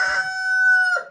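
A single drawn-out rooster crow, close and clear, rising and then holding a long, even note before cutting off.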